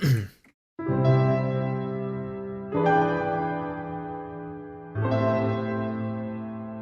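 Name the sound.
sampled piano with reverb and EQ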